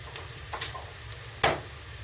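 Onions sizzle and fry steadily in a pan for a spinach and meat dish, with a few soft scrapes and one sharper stir of a utensil partway through; no talking.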